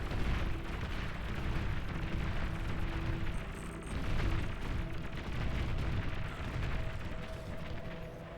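A medium tank in a strategy video game fires on enemy pawns in a dense, continuous wash of explosions and gunfire, a rumbling battle din that stays steady throughout.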